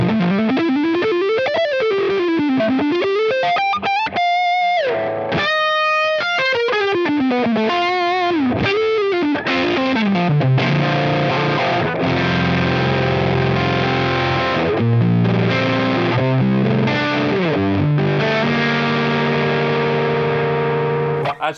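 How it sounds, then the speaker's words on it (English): An electric guitar plays through a Rat distortion pedal, loud and saturated with fuzzy, buzzing sustain, sliding notes and sweeping pitch bends at first, then settling into held, distorted chords that ring on alone. "As you get that distortion up a bit higher, you do really get into some kind of fuzz territories."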